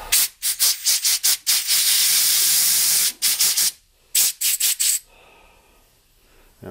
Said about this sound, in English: And you can take some compressed air. You can blow it dry.